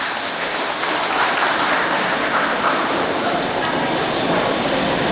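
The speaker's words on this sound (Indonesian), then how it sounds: "tepuk tangan dulu lah" Audience at a Batam city community event applauds for the city revenue office, a steady wash of dense clapping sustained throughout at even loudness.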